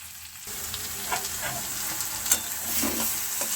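Spice paste sizzles and spatters as it fries in hot oil, a steady close crackling hiss that starts abruptly and holds throughout with small pops.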